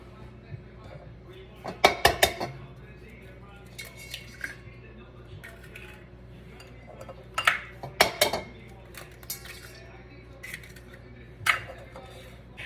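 Four eggs cracked into a bowl for lemon fried dough balls, giving several sharp clinks and taps against the bowl in separate clusters, close and fairly loud over a quiet kitchen background.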